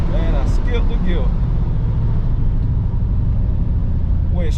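A supercharged Cutlass engine drones loud and low from inside the car as a gear is skipped while shifting, steady rumble throughout with someone talking briefly over it.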